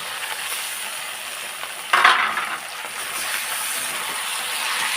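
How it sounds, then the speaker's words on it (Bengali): Chicken pieces rubbed with salt, turmeric, lemon juice and mustard oil hit a hot pan in one sharp, loud burst of sizzle, which settles into a steady frying hiss with no talk. "মাংসটাকে ভালো মতন ভাজা ভাজা হওয়া পর্যন্ত মাংসটাকে ভেজে নেব"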